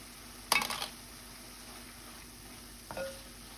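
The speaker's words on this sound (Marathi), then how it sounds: "आमी आतां खोबरें घाताय, कोकनट घाताय आनी बरें मिक्स कर" Grated coconut is stirred into Goan spinach bhaji in a pan, two distinct spoon scrapes against the pan over a faint low simmering hiss, fairly quiet and without talk.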